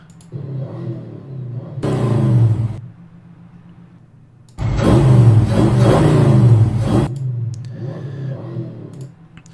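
A car engine revs twice in strong bursts, the second one longer with rising and falling pitch, separated by a lower idle and brief quiet gaps; loud and close, with no speech.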